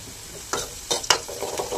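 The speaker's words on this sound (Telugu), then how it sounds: "కొంచెం సాల్ట్ వేసి ఫ్రై చేయండి." Onions frying with salt and turmeric in a pan, a soft sizzle broken by a few close spoon scrapes and stirring knocks, with no voices.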